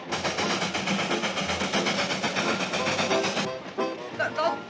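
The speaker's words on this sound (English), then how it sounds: "I thought you had a scheme to keep this old train running" An old train, the Hooterville Cannonball, runs fast along the rails with a steady, close, rumbling clatter that carries through the whole stretch and eases slightly near the end.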